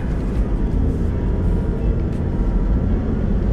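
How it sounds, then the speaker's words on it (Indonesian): Engine of a VXR-80 overland car running while driving, a loud, dense, steady low rumble with road noise and no clear breaks. "Ini mesinnya juga enak guys"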